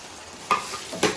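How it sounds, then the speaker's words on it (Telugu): Masala paste hitting hot oil with fried onions in a pan for an Andhra-style boti curry, a soft sizzle with a few sharper stirring scrapes near the mic, no talk. "ఉల్లిపాయలు అయితే వేగినాయి కదా శుభ్రంగా. మనమైతే మసాలా పేస్ట్ వేసేసుకుందాము"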